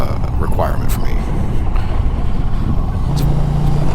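A 2021 Indian Challenger motorcycle runs on a test ride, its low engine rumble and road and wind noise continuous, with the rider talking over it.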